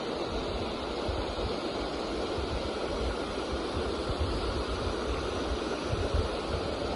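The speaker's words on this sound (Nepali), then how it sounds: "ल हेर्नुहोस् कति राम्रो झरना छ" A roadside waterfall on the way to Ghandruk pours in a steady, even roar of falling water, close and continuous with a touch of wind, and no voices.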